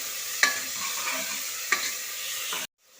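Chopped tomatoes and onions fry in a pan for a beans palya, with a dense steady sizzle under a few sharp stirring clacks before the sound cuts off abruptly near the end, with no voices.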